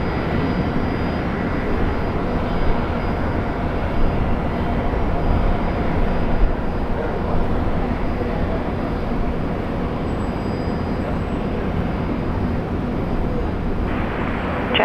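An airliner takes off from runway 01 left at Brisbane Airport, a steady broad engine roar heard from a distance that holds fairly constant at moderate loudness with no talk over it.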